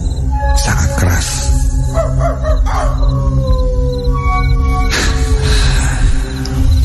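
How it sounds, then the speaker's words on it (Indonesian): Dog howling at night near a house, with long wavering howls and yips rising and falling over a steady low background, a couple of sharp louder bursts near the start and again toward the end. "Anjing yang berada di dekat rumahku mulai menggonggong sangat keras"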